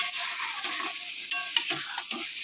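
Egg and potato sautéing in a pan, with a steady bright sizzle and a few clinks and scrapes of a spatula stirring through it, close up and without talk.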